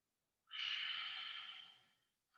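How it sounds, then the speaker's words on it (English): One deep, breathy inhale at the close of a slow-flow yoga session, drawn steadily for about a second and a half and then tapering off, close and quiet, with no talk. "Final inhale."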